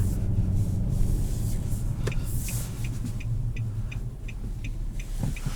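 A 2021 Nissan Maxima SR engine hums steadily from inside the cabin while driving, a low continuous rumble mixed with road noise and faint periodic ticks.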